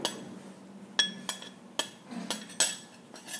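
A spoon mixes cocoa powder, milk and butter in a cup, making a series of sharp, separate clinks against the sides, roughly one every half second, close and fairly quiet over a soft background.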